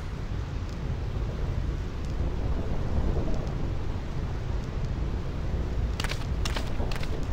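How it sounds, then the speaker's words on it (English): A steady, heavy thunderstorm in the video game Final Fantasy X: dense rain roars continuously over a low rumble of thunder, with a few sharp crackling bursts near the end. "This storm never stops."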